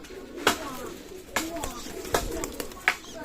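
Teddy pigeon at a loft selling Pakistani pigeons, with faint cooing and wing or cage knocks in a few sharp bursts, heard close while someone talks.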